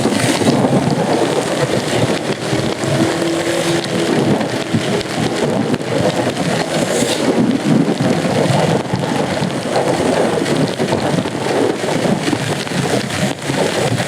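Heavy rain pours steadily and loudly during an extreme-weather race, a dense unbroken roar of falling water that continues throughout without talk.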